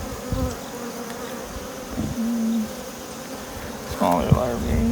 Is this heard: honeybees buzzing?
yes